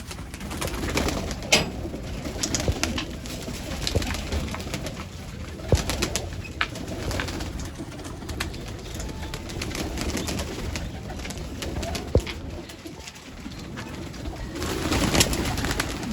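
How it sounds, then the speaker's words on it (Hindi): Rooftop flying pigeons coo steadily, with soft overlapping calls and occasional wing flutters and clatters over a constant outdoor hum. No voices are heard. "तादाद में कबूतर दोस्तों पड़े हैं इधर माशाल्लाह उड़ने वाले"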